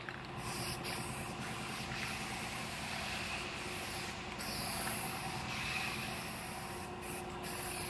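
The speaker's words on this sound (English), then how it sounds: "Now I'm gonna put a guide coat on it." A steady, close hiss of a guide coat being sprayed onto a primed truck bedside that was blocked with 320 grit, running continuously over a low background hum.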